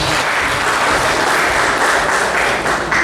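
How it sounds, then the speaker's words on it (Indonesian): An audience applauds for UNARS university at an event in Situbondo. The clapping is loud, dense and sustained throughout, with little talking. "Tepuk tangan untuk UNAS."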